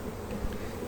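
Big honeybee drones buzz close by in a steady, fairly quiet hum, with a faint insect whine drifting in and out.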